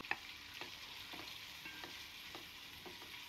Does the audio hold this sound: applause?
no